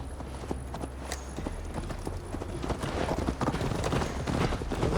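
Horse hooves galloping during a ride in Assassin's Creed Valhalla, a steady rapid clip-clop rhythm that grows louder and denser toward the end, no talk.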